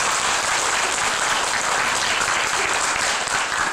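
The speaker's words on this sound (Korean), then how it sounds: "영광의 박수 올립시다." A church congregation gives sustained applause during a Sunday service, a dense even wash of clapping with no break.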